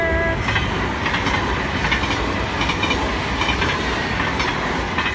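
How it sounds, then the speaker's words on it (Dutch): A train rolls past at Echt in the Netherlands, a loud, continuous rumble and clatter of wheels on rails that holds steady through the whole stretch, with no voices. "maar opeens komt er een trein"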